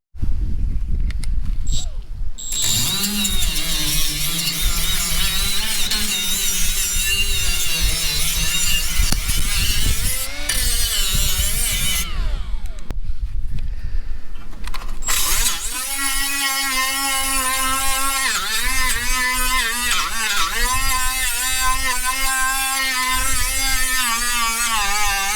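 A Milwaukee FDGA-0 right angle die grinder runs continuously with a high motor whine that shifts pitch as it loads and frees up, with brief pauses between runs, close and loud.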